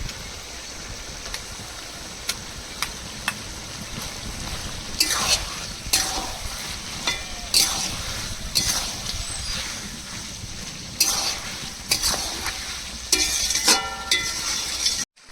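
Fried onion paste goes into hot oil for a tea-liquor chicken curry, giving a steady close sizzle with repeated sharp scraping and stirring strokes of a spoon against the pan.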